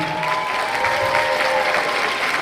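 Audience applause at an accelerator demo day, a steady wash of clapping from a crowd holding at an even level for the whole stretch, with a faint sustained tone running underneath.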